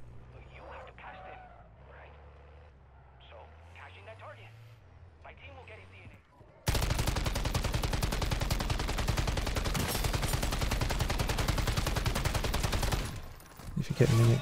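Sustained automatic gunfire in the Modern Warfare Zombies video game during an Act 4 boss fight against the Aether Worm, a loud continuous burst that starts abruptly midway after quieter game ambience, followed by a heavy blast.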